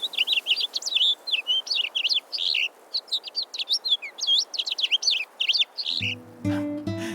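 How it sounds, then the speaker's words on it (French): A rosefinch sings a long run of quick, bright chirping phrases with brief pauses, close by, ending in a short louder lower burst of other sound. "Un roselin vint se poser sur une de ses branches et entonna pour lui son plus beau chant"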